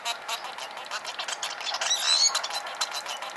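Song of the wild precursor strain of a bird: thin, high chirping notes with a brief whistled flourish midway, fairly soft and set against a hissy background.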